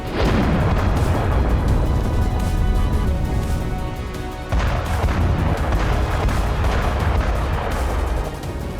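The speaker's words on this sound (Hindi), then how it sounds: "हवा से बात करते हुए रूस की मिसाइल आई और उसने चंद सेकंड में एक मल्टी स्टोरेज बिल्डिंग को" A Russian missile strike on a multi-storey building in Kyiv produces a loud, sustained roar and rumble of blasts that dips briefly midway, then surges again.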